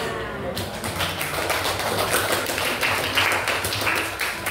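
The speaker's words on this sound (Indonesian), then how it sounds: "Tepuk tangan" Students in a classroom clap their hands together, a dense burst of applause following a brief pause, steady and close for a few seconds.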